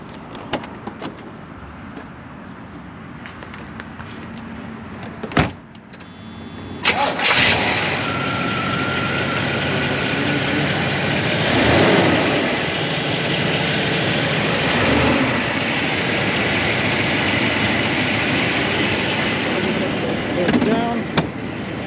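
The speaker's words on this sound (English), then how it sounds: "I'll fire it up and show you some lights with it." The 305 V8 of a 1984 Avanti II cranks and fires up with a loud burst, then settles into a steady, rumbling idle that stays close and constant, with a few small revs and a clunk.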